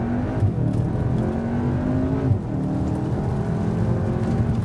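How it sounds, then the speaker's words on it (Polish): A Cupra Formentor VZ accelerates hard at full throttle from a launch-control start. The engine drone climbs steadily in pitch, drops briefly at a gear change, then rises again, close and continuous with no talking. "Krótszy launch control zrobię. Mocno wciśnięty pedał hamulca lewą nogą. Pedał gazu do oporu."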